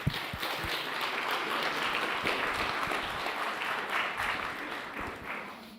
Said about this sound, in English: And so one round of applause for Ali.